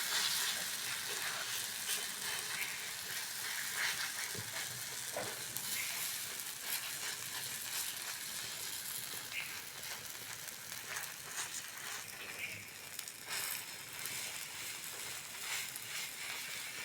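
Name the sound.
batter frying in oil on a tawa (school tiffin recipe)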